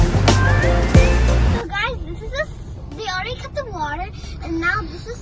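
A car passes through a drive-through car wash, spraying water and rollers rumbling loudly at first before quieting, while children and adults chatter and exclaim inside the vehicle.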